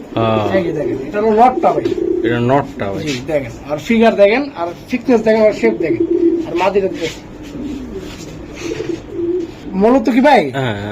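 Racing pigeons coo repeatedly in a loft, their soft rolling calls mixed closely with a man's steady conversation running through nearly the whole stretch.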